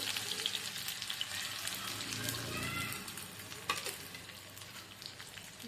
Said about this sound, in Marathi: सर्व कांदा आपल्याला असाच तळून घ्यायचा आहे